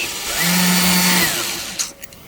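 A power saw whirs loudly at close range while building a ramp, holding a steady pitch before winding down, followed by a couple of light clicks.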